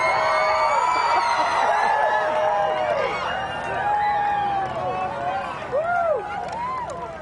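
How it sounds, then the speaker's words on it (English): A large outdoor crowd in Fredericksburg, Texas cheers, whoops and shouts as the solar eclipse reaches totality, loud and sustained with overlapping voices and rising whistles. "And you're hearing that cheer"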